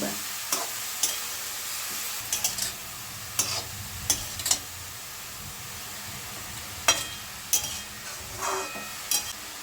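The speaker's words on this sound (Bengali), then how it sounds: "ভালো করে সবগুলো একসঙ্গে মিশিয়ে ভালো করে ঢেকে দেবো" Carrot and capsicum momo filling stirred in a pan, a low, soft sizzle broken by scattered sharp clicks and scrapes of the spoon against the metal.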